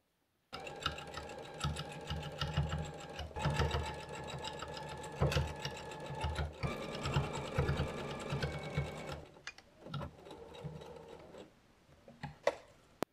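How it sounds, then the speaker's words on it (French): Sewing machine stitching along a strip of double gauze fabric cut from an upcycled terry towel: close, rapid mechanical rattling in long runs, pausing and stopping with a few clicks and taps near the end. "je passe à la machine à coudre pour coudre une épaisseur là de la double gaze"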